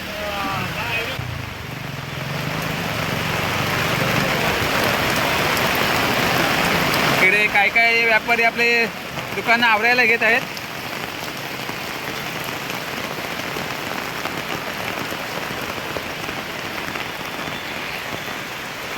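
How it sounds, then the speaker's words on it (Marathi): Heavy rain pours down in a dense, steady roar over a weekly market in Rajapur, while someone speaks briefly partway through over the downpour. "पाऊस आला पाऊस"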